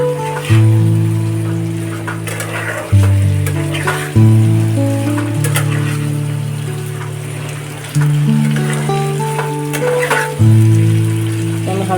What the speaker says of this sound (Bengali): মাছটা দিয়ে আমি একটু নাড়িয়ে নিই কড়াইতে।